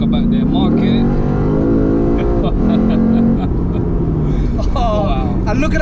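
A 2008 Lexus IS F (USE20) rolls over an uneven road, its engine droning steadily with tyre and suspension rumble throughout, close and fairly loud, while a person talks over it.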